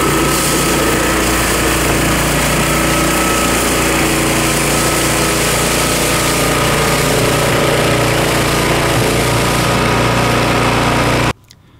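The small engine of an Ariens Power Brush 36 runs loud and steady while clearing snow on icy blacktop, a constant close drone with a rotating brush hum that cuts off abruptly near the end.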